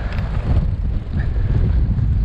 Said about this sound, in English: The wind has picked up.